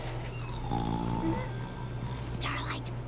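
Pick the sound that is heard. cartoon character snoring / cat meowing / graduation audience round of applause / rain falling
cartoon character snoring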